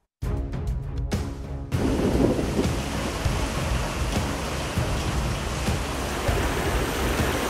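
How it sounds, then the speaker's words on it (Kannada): Heavy monsoon rain with thunder in Karnataka: a sharp crackling thunder roll at the start gives way to a loud, dense, continuous roar of downpour, with no voices. "ಮುಂಗಾರು ಮಳೆ ಅಬ್ಬರಿಸ್ತಾ ಇದೆ."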